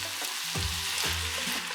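Eggs hit a hot, sizzling pan for pineapple shrimp fried rice, a steady close frying hiss with a few soft stirring thumps and no talk.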